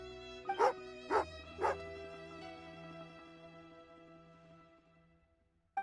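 A dog in the video game Genshin Impact gives three sharp, evenly spaced barks close up, followed by sustained soft background music.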